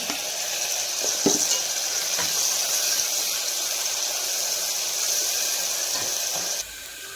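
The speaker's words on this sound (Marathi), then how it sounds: "तेल गरम झालेलं आहे कांदा टाकून घेऊ आपण छान एकदम गुलाबी कलरवर आपल्याला फ्राय करून द्यायचा आहे कांदा" Onions frying in hot oil for green chicken make a continuous close hiss and sizzle, with a few stirring clacks, before the sound drops away near the end.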